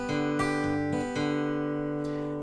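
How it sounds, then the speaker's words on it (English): Fingerpicked acoustic guitar in G, playing a blues turnaround with an alternating bass and picked outer strings, several plucked notes ringing together at moderate, steady volume with no talk. "for bar 4, we are going to introduce more of a picking pattern"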